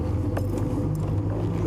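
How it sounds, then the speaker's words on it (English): A safari vehicle pulls forward during a sunrise game drive near elephants, its engine giving a low, steady rumble close by for a short moment. "I'm just going to move the vehicle so we can be parallel to them."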